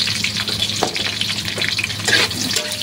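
Ginger, garlic and onion fry in hot oil for chicken feet adobo, giving a loud, steady, close sizzle with stirring scrapes throughout.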